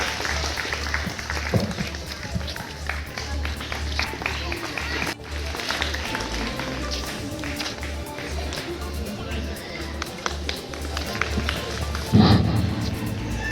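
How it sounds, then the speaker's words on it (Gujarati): An audience at a school Republic Day celebration claps in rhythmic applause beneath a loud amplified voice and background music, the clapping steady across the clip and swelling near the end. "આપણે તાળીઓથી વધાવીશું દાદાશ્રીને."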